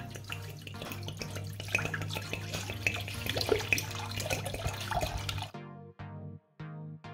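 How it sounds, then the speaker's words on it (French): Cold water and rum being poured for a syrup give a soft, steady trickle, then a few faint drips close by. "vous mélangez le rhum et l'eau froide."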